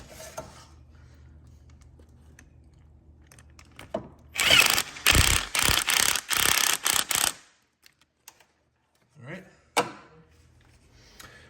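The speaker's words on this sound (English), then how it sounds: "now I'm gonna tighten it down using an 8mm" A ratchet with an 8mm socket tightens a Mishimoto radiator hose clamp on a Fiat 500 Abarth, giving several quick bursts of close, rapid clicking over about three seconds, with quieter handling knocks before and after.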